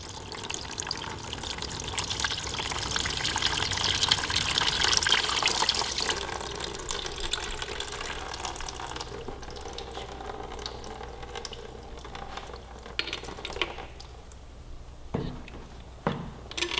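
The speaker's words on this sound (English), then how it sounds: "Just try to position the hose in such a way that you're able to capture the coolant." Engine coolant drains from a motorcycle hose into a drain pan, making a steady, moderately loud stream of liquid that eases off partway through, followed by scattered drips and trickles.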